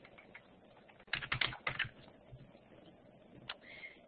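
Computer keyboard keys clatter in a short burst of quick, close taps, with a few more isolated keystrokes following after a pause, while someone edits a Wikipedia page.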